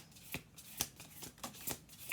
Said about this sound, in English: We'll do 2 more shuffles here.